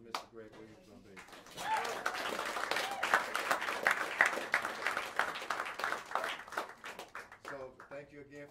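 Audience applause for bassist Greg Williams at Smalls Jazz Club in New York City, a dense burst of clapping that swells and holds for several seconds, with someone speaking briefly before and after it.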